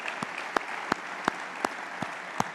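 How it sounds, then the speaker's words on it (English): An audience applauds at an anniversary symposium marking the end of war, a dense steady patter of clapping punctuated by regular sharper claps, sustained throughout. "One last round of applause for Rich this evening."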